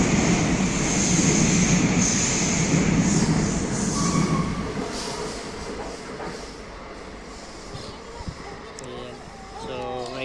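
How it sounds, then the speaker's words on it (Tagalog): Trains on a line heading out of Barcelona pass one after another, with a loud sustained rumble and wheel clatter that fades slightly as cars roll by, and people talking over it. "Ayan, sunod-sunod lang yung train dito."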